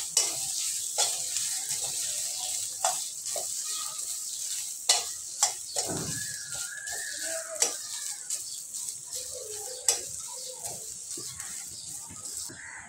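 Onion frying in a pan with grated coconut while being stirred, a steady sizzle broken by sharp scraping taps of a spatula and brief background noises.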